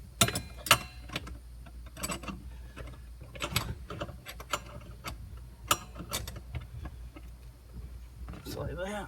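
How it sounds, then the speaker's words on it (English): A 13mm wrench ratchets against the intermediate steering shaft bolt during a steering column install on a Silverado, Tahoe, Suburban, Sierra or Yukon: close, crisp clicks in irregular bursts, with someone talking. "Turn it down so I can get my 13mm wrench on the top."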